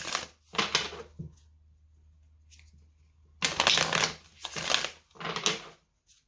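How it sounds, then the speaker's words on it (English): Oracle cards being shuffled by hand for a pick-a-card love reading: two short riffling bursts, a quiet pause with low hum, then two longer, louder shuffling runs close to the mic, with no talking. "So I'm just gonna shuffle"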